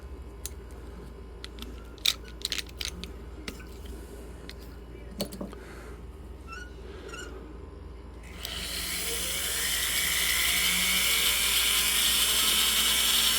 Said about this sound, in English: go ahead and switch to our other silicone wheel so we can take care of the outside and the sides of the ring.